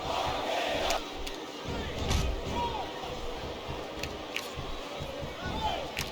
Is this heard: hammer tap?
no